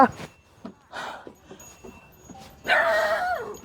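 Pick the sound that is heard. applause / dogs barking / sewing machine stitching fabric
dogs barking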